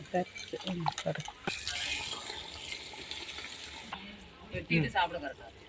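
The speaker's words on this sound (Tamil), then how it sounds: "புளி ஊற்றுறோம்." Tamarind water poured into a sizzling pot of birthday chicken biryani, a loud hiss and splashing sizzle that swells and rumbles steadily for several seconds, with people talking at the start and end.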